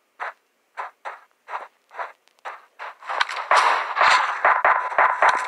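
Gunfire in the video game PUBG Mobile: a string of separate sharp shots at first, then heavier, denser bursts of firing that crowd together toward the end, loud and close.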